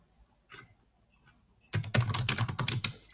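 Rapid typing on a computer keyboard, a quiet pause giving way to a dense, close burst of key clatter lasting over a second.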